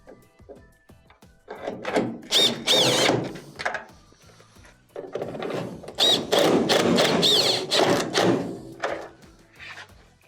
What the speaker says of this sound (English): Reinstall our 2 1/4-inch screws.